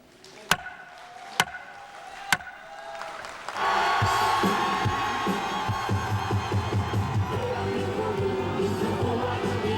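A crowd gathered for a presidential impeachment vote result erupts into loud sustained cheering and shouting after a few isolated sharp knocks, the roar continuing steadily to the end.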